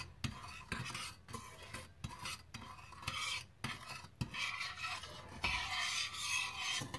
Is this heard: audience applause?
no